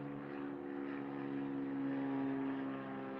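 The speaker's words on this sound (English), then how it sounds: "this plane is so loud" A propeller airplane flies overhead, its steady engine drone loud and continuous with a slight swell in the middle, heard alone without speech.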